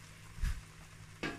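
Cooked turkey is stirred into sauce in a pan, giving a soft low sizzle with two brief scraping stirs, one early and one near the end, quiet and close.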